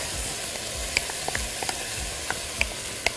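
Freekeh sizzles in a pot as it is stirred, a steady hiss broken by a few light scrapes and taps of the spoon, close and moderately loud.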